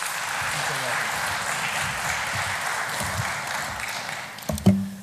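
Audience applause welcoming Gustave Borchardt of the International Commission for the Rhine at an urban thinkers' campus event, a steady wash of clapping through the hall with a few sharp taps and louder knocks near the end.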